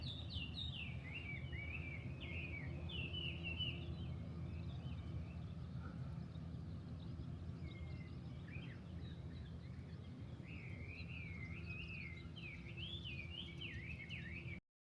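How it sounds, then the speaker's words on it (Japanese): Birds sing steadily throughout on the Arakawa riverbank in Kitamoto, Saitama, warbling phrases repeating over a constant low rumble of background noise outdoors. "鳥の声が大量に聞こえて、"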